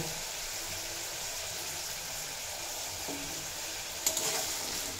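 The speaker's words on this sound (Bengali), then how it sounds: "দিয়ে 5-6 মিনিট মতো লো টু মিডিয়াম ফ্লেমে রেখে ভেজে নেব" Okra fries in a pan with salt, turmeric and Kashmiri chilli powder over low to medium flame, giving a soft steady sizzle with a faint clink near the end.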